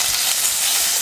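Mustard seeds, urad dal and curry leaves crackle in hot oil for a Tamil-style tempering, a bright continuous sizzle heard close up and alone.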